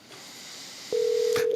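A telephone line on a morning radio call-in show: after a brief hiss, a steady electronic ringing tone begins abruptly and holds, close and fairly loud, with no talk.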